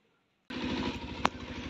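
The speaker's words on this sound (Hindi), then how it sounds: "गाइस, वो कैसे पटाखा उड़ के आए।" A string of firecrackers near Maa Dhat Kali Temple in Dehradun bursts suddenly into a rapid, continuous crackle of pops after a moment of silence, with one sharper bang near the end.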